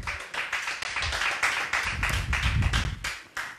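A church congregation claps together in acclaim of the Lord during an evangelistic sermon, giving a steady rhythm of about a dozen sharp claps at a lively, even pace.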